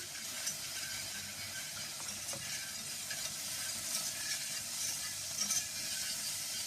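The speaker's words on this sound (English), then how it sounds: "I'm gonna add the onions and the garlic to my pot and stir" Onions and garlic frying in hot oil in a pot, a steady broad sizzle with faint scrapes and clicks of stirring, close and continuous.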